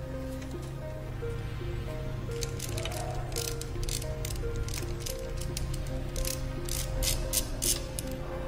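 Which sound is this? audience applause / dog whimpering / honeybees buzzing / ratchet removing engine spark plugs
ratchet removing engine spark plugs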